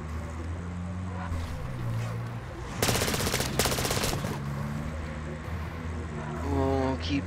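Pack-a-Punch upgraded gun firing in a Call of Duty zombies game: a dense, rapid burst of loud automatic shots lasting about a second, set amid game music and humming tones, with a voice talking around it.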